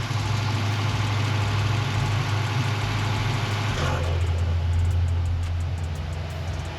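An overheating car engine with no exhaust fitted idles with a steady, low rumble. Partway through, the radiator cooling fans kick in and add a broad whooshing rush on top of the engine. No one speaks.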